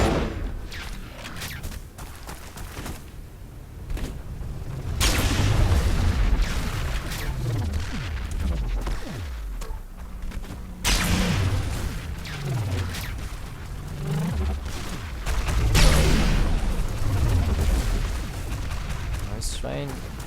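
Rocket blasts and weapon booms from a ShootMania competitive match, with repeated bursts of explosions and gunfire-like thuds throughout, heard under continuous commentary talk.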